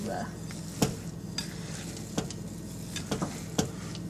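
Oatmeal Craisin white chocolate chip cookie dough being stirred in a bowl, with a soft continuous scraping and a few sharper clinks of utensil against the bowl, close and fairly quiet.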